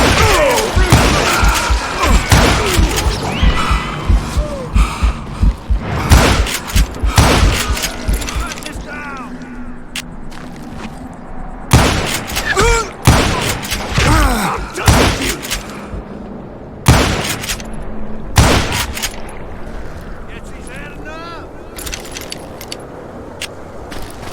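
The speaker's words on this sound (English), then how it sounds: "Kid Curry opened up on me with a goddamn Gatling gun" A Gatling gun fires in the Western shooter game Call of Juarez Gunslinger, loud rapid volleys breaking off and resuming repeatedly, mixed with crashes and other game action noise.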